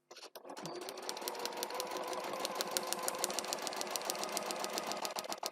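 A sewing machine stitches paper-pieced fabric along a line and a few stitches past it, a steady close, loud run of rapid needle strokes lasting several seconds after a brief start.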